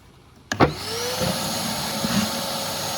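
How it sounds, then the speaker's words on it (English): A pool vacuum starts with a sharp thump and settles into a steady suction roar and hiss as it pulls sludge from the skimmer box of a green pool, close and continuous. "Don't forget to vacuum out the sludge from the skimmer box."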